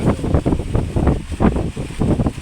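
Gusty wind buffets the microphone in uneven low rumbling pulses, loud and close, with no other clear sounds.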